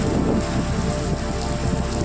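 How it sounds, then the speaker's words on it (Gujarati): Steady, dense rainfall hisses continuously on surfaces, a heavy downpour filling the whole moment without pause. "અત્યારે ફૂલ વરસાદ આવવા માંડ્યો"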